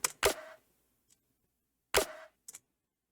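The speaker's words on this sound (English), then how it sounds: "So we're going to start with the snares and try to mix those up a little bit here." Two soloed snare drum sample hits with short sharp attacks and quick decay, each followed by a faint softer tap, separated by silence.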